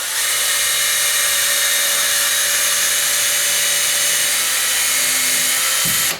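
A power drill drives a screw at an angle through a loose door hinge into the stud behind the drywall, giving one loud, continuous high whine held for about six seconds and cutting off at the end, with no talk.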